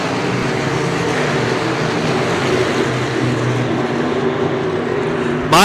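Wingless sprint cars racing at Cedar Lake Speedway, a loud, continuous engine roar from the pack heading into a turn, steady and dense throughout with a sharp change right at the end.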